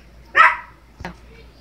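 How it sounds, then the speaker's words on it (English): A small dog gives one loud, close yip-like bark, then a second shorter, fainter bark about half a second later, against a quiet indoor background. "that was my little doggy, and she's excited about all the stuff going on"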